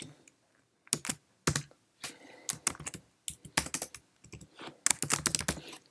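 A file name being typed on a computer keyboard: close, crisp bursts of key clicks in irregular clusters with short pauses between them, with no talking.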